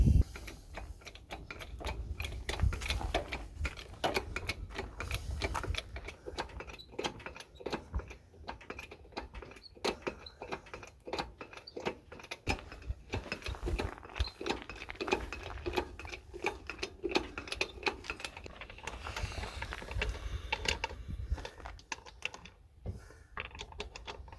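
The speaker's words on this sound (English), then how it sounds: "pumping it up. And as you can see, it's slow but steady, but we are lifting the Jeep up off the ground" A jack being pumped to lift a Jeep off the ground during an off-road flat tire repair, giving dense rapid mechanical clicks and ratcheting taps that run continuously, close and faint.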